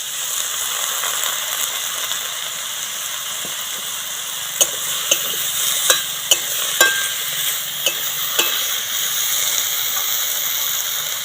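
Spinach cooking over low heat in a pan with brinjal, turmeric and chili powder, a continuous gentle sizzle and hiss with a cluster of light spatula clicks and scrapes in the middle.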